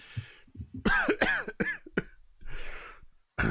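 A person imitates a fit of violent coughing, a series of harsh, raspy coughs and throat-clearing bursts with brief pauses between them.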